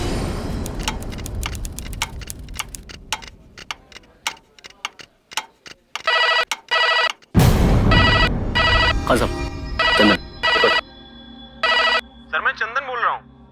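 A telephone rings in repeated bright electronic bursts with short gaps, preceded by rapid clock-like ticking, loud and close, with people talking around it.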